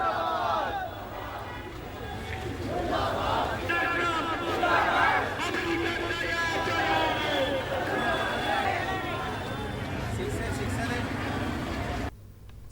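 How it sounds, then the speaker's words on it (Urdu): Protesters at a street rally in Mumbra, India, against the killing of Iranian general Qassem Soleimani shout slogans together in rhythmic, rising chants, crowd voices loud and close over a background of general hubbub. "امریکہ کو دہشت گرد قرار دیتے ہوئے اس کے خلاف مظاہرین نے نعرے بازی بھی کی۔"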